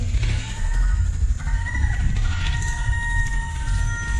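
Chickens call and crow close by, drawn-out tonal cries over a low, rumbling outdoor background.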